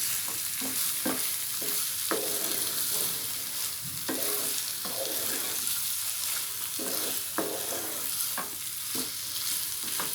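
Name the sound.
stuffed brinjal frying in a pan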